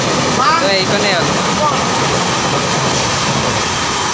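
A goods train passing Sorbhog railway station, a steady close rumble of wagons rolling by with a brief high screech of wheels or a horn near the start, continuous throughout.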